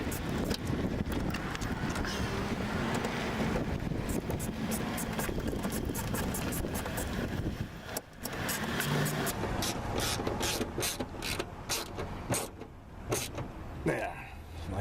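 Ratchet tool tightening a screw on a Toyota Sienna wiper motor, rapid repeated clicking in bursts close up, with people talking over parts of it.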